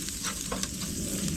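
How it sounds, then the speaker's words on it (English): Steaks sizzle on a BBQ grill, a close, continuous hiss and crackle of fat searing, with no talk. "Sizzling goodness there."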